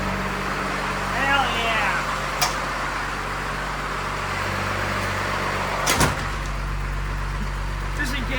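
A rebuilt Cummins diesel engine idles with a steady low rumble throughout, broken by a couple of door-like thumps, while someone speaks briefly over it.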